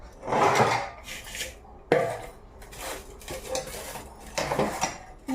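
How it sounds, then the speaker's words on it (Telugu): Many pots and dishes are scrubbed by hand outside while seated, giving intermittent metallic clinks, scrapes and clatters of steel vessels at close range. "గిన్నెలు అయితే చాలా ఉన్నాయి కదా అందుకని సింక్లో కావచ్చు బయట తోమేస్తే కూర్చొని తోముకున్నట్టు ఉంటుంది"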